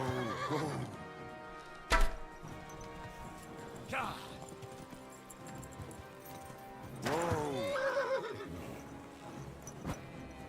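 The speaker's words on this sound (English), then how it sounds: "Did you hear the horse I'm gonna sell soon" Several shrill horse whinnies ring out over a busy Kingdom Come: Deliverance II game soundscape, with clattering hooves and a sharp crash between them.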